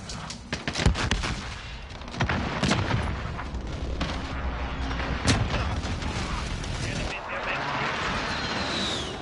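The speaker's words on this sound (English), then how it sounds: "Allied received airstrike incoming." Airstrike explosions in a Call of Duty multiplayer match: dense rumbling booms and rattling gunfire fill the whole stretch, loud and continuous, with game voice callouts mixed in.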